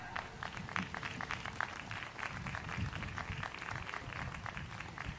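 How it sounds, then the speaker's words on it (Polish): Applause from an outdoor concert audience at an open-air museum folk event, dense continuous clapping from a large crowd, fairly distant and soft, with no voices on top. "Jeszcze raz wielkie brawa!"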